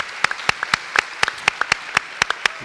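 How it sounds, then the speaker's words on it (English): Sparse, crisp hand claps from a small group at an upper school assembly, irregular but steady, close by, with no talking over them. "Let's give them a round of applause."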